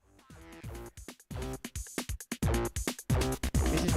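A Korg Electribe MX synthesizer with tube valve warmth plays a choppy, rhythmic sequence of short notes with a thick, harmonically rich, warm tone, no voices.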